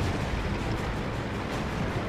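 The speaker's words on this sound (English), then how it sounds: "Now I have like a fucking howitzer cannon on this, so I have to make my shots count." A howitzer cannon on a tank in World of Tanks fires amid a dense, rumbling barrage of booming blasts that fills the clip with no voices.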